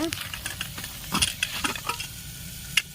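Tomatoes frying in a pan for a raw mango rasam, giving a steady soft sizzle with repeated scraping stir strokes close by.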